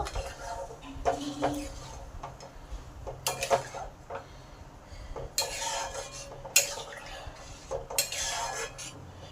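A metal spoon stirs the spice mix into Pancharatna dal in a pot over high heat, giving sharp intermittent clanks and scrapes against the pot with quieter pauses between strokes.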